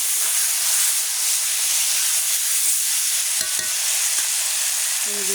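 Taro leaves hit a hot oiled pan, giving a loud, steady broadband sizzle that holds evenly throughout, with a few brief clinks of utensils near the end and no voices.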